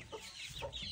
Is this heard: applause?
no